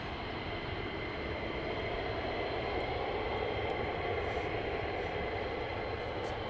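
F-35 fighter jet passing overhead, a distant, steady broadband roar that stays faint and constant with no clear rise or fall.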